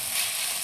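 Mustard seeds splutter in hot oil as a moringa leaf sabji is prepared, a steady close hiss and crackle with a sharper pop at the very end.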